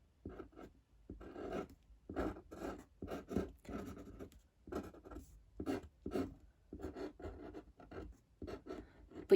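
A pen scratching and scribbling on paper while a picture is drawn, quiet close strokes in irregular bursts with short pauses between.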